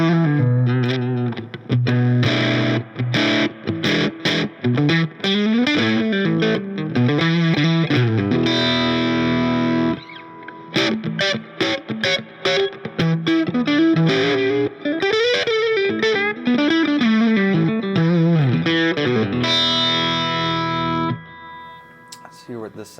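Electric guitar played through an overdrive pedal during a pedal demo, with chords and single-note phrases ringing out loud and steady for about twenty seconds before a short drop near the end.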